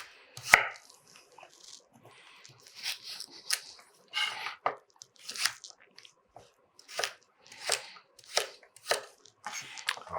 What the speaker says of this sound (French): J'ai pris une carotte jaune et une carotte orange. Je vais les couper aussi en petits morceaux.